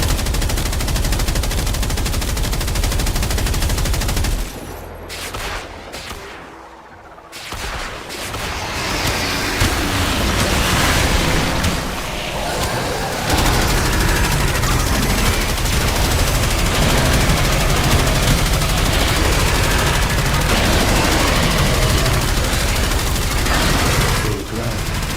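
Rapid automatic gunfire from the video game Warframe runs dense and loud almost throughout, broken briefly by a short gap and a dip before the bursts resume.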